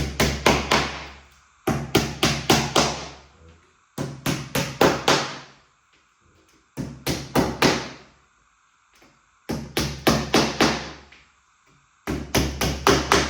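A hammer taps pieces into an IKEA kitchen base cabinet during assembly, with sharp knocks coming in quick clusters of four to six, separated by short pauses, close and fairly loud.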